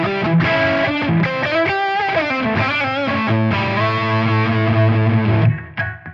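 An electric guitar on its neck pickup plays through a Tonex amp capture, a loud distorted riff of sustained chords and single notes ringing close, then cut off abruptly near the end.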